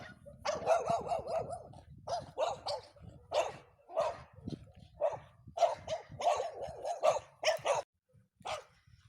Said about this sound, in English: I passed up the barking dogs.